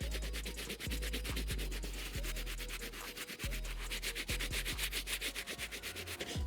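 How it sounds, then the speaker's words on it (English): A medium bristle brush scrubs white leather on Jordan 1 Travis Scott Reverse Mocha sneakers in a loud, steady rhythm of rapid back-and-forth strokes, close and continuous, with no talking. "Now I'm gonna move on to the medium bristle brush."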